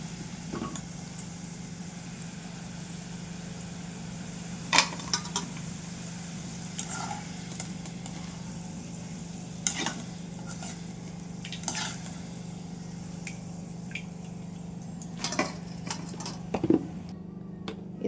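Potato chips fry gently in a pan on a low flame, a soft, steady sizzle running throughout with occasional clinks and knocks of a utensil against the cookware.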